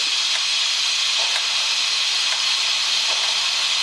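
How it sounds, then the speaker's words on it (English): Steam hisses loudly and continuously as it is released from a pot of cooking beans, a bright, even rush with faint pulses and no talking. "releasing the steam without putting your hand over it."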